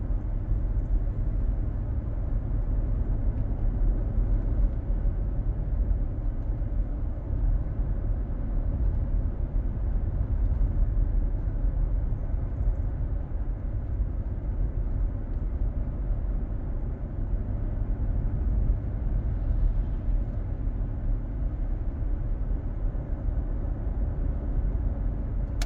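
Steady low road rumble from a 2012 Chevrolet Silverado cruising a wide four-lane divided highway through a national forest, with its ABS, traction and TPMS warning lights on; the drone holds constant and fairly loud throughout, with no talk.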